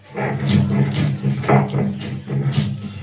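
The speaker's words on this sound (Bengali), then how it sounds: "সর্ষে বাটাটা আমাকে শিল নোড়াতেই বাটতে হবে" Mustard seeds being ground by hand with a stone on a flat stone slab (shil nora), a repeated coarse rubbing rasp in steady back-and-forth strokes, close and alone.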